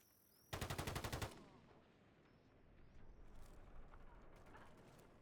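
A rapid burst of about a dozen SVA-545 rifle shots fires in a video game, loud and close for under a second. Quieter game ambience and faint rumbling follow.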